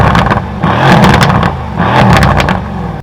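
A Mercedes C63S AMG V8 engine revs hard in two rising bursts, loud and close, with a deep throaty rumble and no voices.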